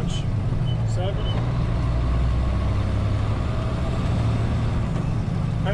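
A truck engine with a 10-speed manual transmission runs steadily while the driver shifts gears, a loud low drone with someone talking over it.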